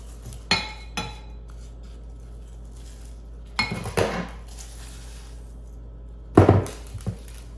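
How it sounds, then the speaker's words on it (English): Sea salt scrub is scooped into a glass container, with a few sharp clinks and scrapes of a utensil against the glass in separate bursts and quiet pauses between them. "Just gonna get the last of the scrub in this container."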